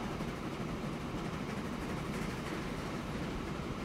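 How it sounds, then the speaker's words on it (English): A train in the video game Transport Fever rolls along double track with a steady, continuous mechanical rumble and rattling, holding an even level from start to finish. "Get our cow train."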